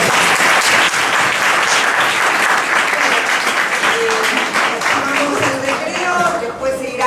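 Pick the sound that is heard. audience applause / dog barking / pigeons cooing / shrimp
audience applause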